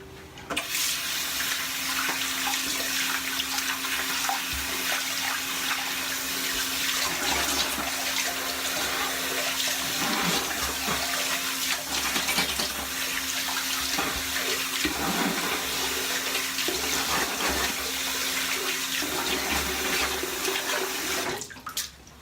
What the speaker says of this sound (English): I'm going to rinse this pre-shave off very quickly